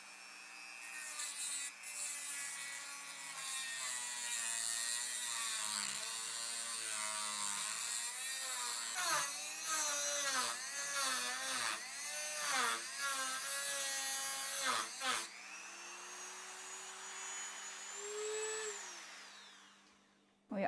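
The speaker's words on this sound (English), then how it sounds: "I'm going to cut my threaded rod using a Dremel tool and a metal cutting device" A Dremel rotary tool with a metal cutting disc slicing through threaded metal rod, a continuous high whine with wavering pitch as the disc bites, near and steady, ending in a rising free-spinning whir as it finishes.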